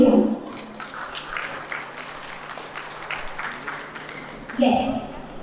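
Applause from guests at an engagement ceremony, a steady patter of clapping that runs the whole way, with a few louder bursts near the end.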